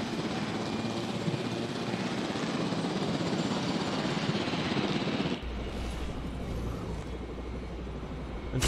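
A helicopter flying in the video game Jurassic World Evolution: a steady, loud rotor and engine drone that shifts to a deeper rumble partway through, with no talk over it.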